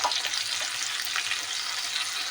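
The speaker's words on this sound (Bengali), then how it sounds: "মশলাটাকে ভালোভাবে কষে নিতে হবে এভাবে" Ginger-garlic paste, turmeric, chili and cumin-pepper powder sauté in a pan for a red lentil and egg curry, giving a dense, steady, close sizzle with stirring.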